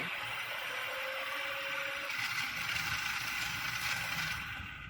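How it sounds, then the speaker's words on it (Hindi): Meat chopper grinding cooked beef for shami kabab, a steady whirring, rattling motor drone with gritty mechanical texture that holds for several seconds, then tapers slightly at the end. "अब हम ग्राइंड करेंगे।"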